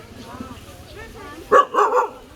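A dog barks outdoors at a village charity food-giving event: three sharp, loud barks in quick succession near the end, after a stretch of background chatter and people talking.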